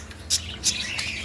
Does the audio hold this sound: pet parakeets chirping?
yes